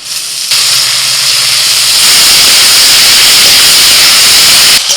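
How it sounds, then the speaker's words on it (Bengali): Helencha greens go into a hot pan with potato, turmeric and salt, setting off a loud, close, steady hissing sizzle that swells slightly and continues almost unbroken before stopping abruptly. "এবার দিয়ে দিচ্ছি শাক।"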